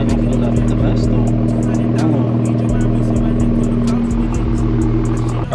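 A static stance car's engine idles loudly and steadily while warming up after sitting unused for about a week, a constant low drone with faint voices talking nearby.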